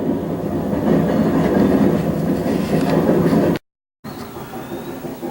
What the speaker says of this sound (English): I like to just watch the trains run.